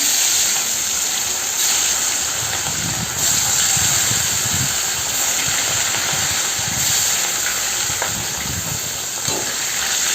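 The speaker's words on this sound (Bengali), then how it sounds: "গরম হয়ে গেছে, আমি নিজে এক এক করে মাছগুলোকে ভেজে নেব।" Pieces of fish fry one by one in hot oil in a wok for a homestyle fish and potato curry, giving a loud, steady close-up hiss and sizzle throughout with no talking.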